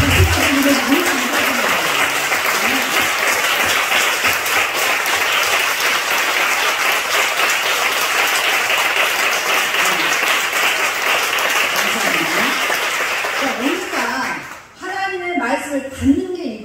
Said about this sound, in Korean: 하나님 앞에 박수 더 많이 쳐요